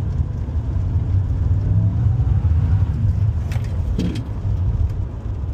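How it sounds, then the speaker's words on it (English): A supercharged RAM truck with a 5.7 Hemi engine pulls hard in first gear with a loud, close engine roar and blower whine, and a few faint jingling clicks sound over the drone. "She's got a nasty first gear on her with this blower."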